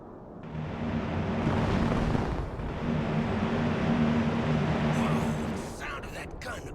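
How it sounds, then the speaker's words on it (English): Sustained heavy aircraft gunfire roars through an airstrike in the video game Broken Arrow, a dense, loud rumbling burst lasting several seconds before fading, with a voice speaking over it. "The sound of that gun always gives me chills"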